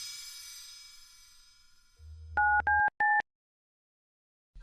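Three loud, clear telephone dialing tones ring out in a short even sequence after a low rumble, then fall silent, with no voices over them.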